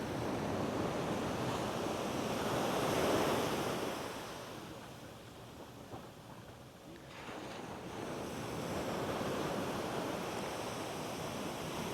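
Waves roll onto the Red Beach in Paracas National Reserve, Peru, heard from a distance with steady wind. The surf swells and fades in broad, slow surges.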